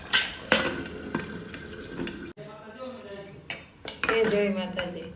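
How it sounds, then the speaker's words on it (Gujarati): A metal pressure cooker lid is fitted shut over a cabbage and potato curry. Several sharp clanks and clinks of metal ring out at close range, mixed with someone talking. "અને કુકરનું ઢાંકણું કરી દઈશું બંધ."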